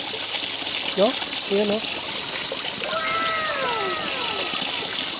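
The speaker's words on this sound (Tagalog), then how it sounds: "ang lakas ng tubig" Strong water flow gushes from a pipe in a steady rushing hiss, continuous and close, while someone talks over it.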